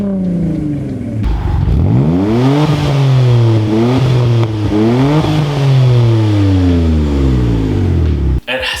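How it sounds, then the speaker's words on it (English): An eighth-generation Mitsubishi Galant VR-4 engine revving up and down several times, its smooth exhaust note rising and falling loudly and close, ending in a sudden cut-off. "seems to have a much smoother note to it, probably because it's a smaller motor"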